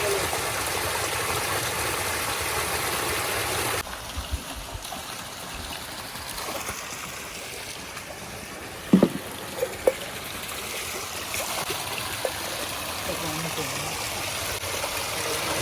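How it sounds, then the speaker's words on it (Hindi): The Narmada river flowing out of a forest spring as a stream, a steady rushing wash of water heard close by, with a few brief knocks partway through. "ये यहाँ से ये माँ नर्मदा जी की धारा आ रही है"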